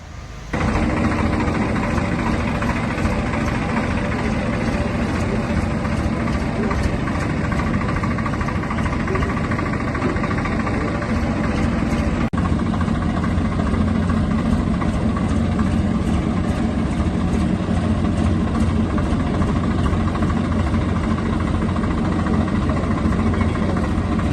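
A tractor engine runs continuously for over twenty seconds, a loud, steady low rumble close by with no talking over it.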